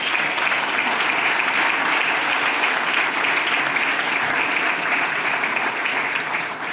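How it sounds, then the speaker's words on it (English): An audience applauding a scientist at an organic awards keynote, a loud, dense and sustained roar of clapping from a large crowd, steady for the whole stretch. "Can we have a round of applause for this scientist?"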